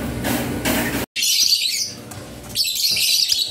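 Two caged birds give harsh, loud squawks in quick bursts, a short screech, then a pause, then more bright, shrill calls.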